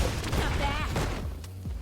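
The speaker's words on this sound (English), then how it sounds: "Hit with a fireball." Fireball impact in Street Fighter V during a top-eight online tournament match, a burst of game hit and explosion effects layered under continuous commentary and a dense mix of game sound.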